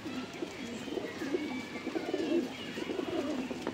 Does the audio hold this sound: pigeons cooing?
yes